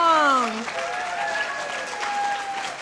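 Applause from a luncheon audience at a volunteer recognition event follows a speaker's voice, continuing as a moderate, even patter while tonal sounds drift above it.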